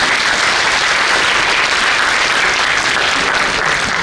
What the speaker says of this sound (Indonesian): Tepuk tangan dong untuk ini.